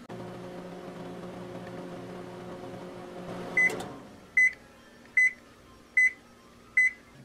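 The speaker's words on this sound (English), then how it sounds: "So now I'm going to heat that up in the microwave" Microwave oven heating water, a steady electrical hum that stops at the end of the cycle, followed by a click and five evenly spaced loud beeps at close range.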